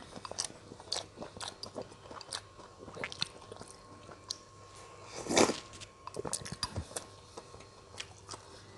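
Close-up mouth sounds of someone eating fried wontons and meatballs dipped in sesame sauce: soft, only mildly crunchy bites and squishy chewing in irregular bursts, with one louder bite near the middle and no talking.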